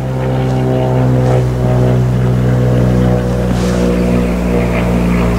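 An airplane flies over along the approach lane to a local municipal airport, making a loud, steady engine drone with a strong low hum that holds throughout without fading.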